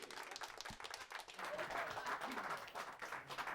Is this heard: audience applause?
yes